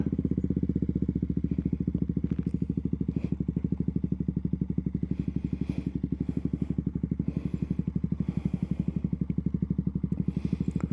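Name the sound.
KTM Duke 200 motorcycle engine while turning around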